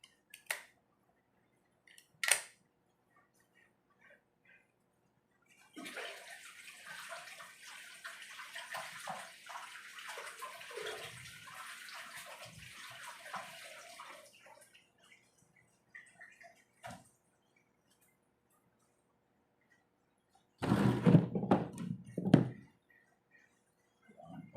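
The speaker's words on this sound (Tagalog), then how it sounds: "Ito naman, hugasan natin yung okra." Okra being washed under running water, with a steady tap stream for several seconds, a louder splashing burst near the end, and scattered knocks and drips in an otherwise quiet kitchen.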